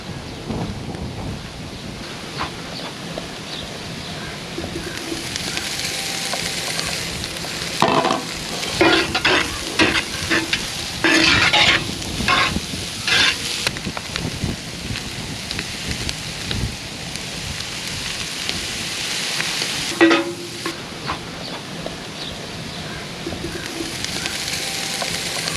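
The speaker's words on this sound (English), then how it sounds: "I just like to get a little bit of caramelization on the pastrami" Sweet potato and pastrami hash with seasoned salt frying in one pan, a loud continuous sizzle with bursts of crackling and scraping as the mixture is stirred.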